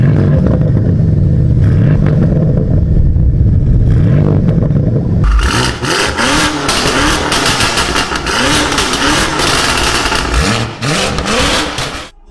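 BMW M5 F90 Competition engine: a deep idle rumble for about five seconds, then a loud, close rev that climbs and falls repeatedly in sharp bursts through to the end.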